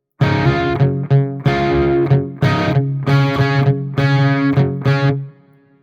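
An electric guitar with heavy distortion plays a riff slowly, sustained chords broken by short muted gaps in an uneven rhythm, loud and close before ringing out.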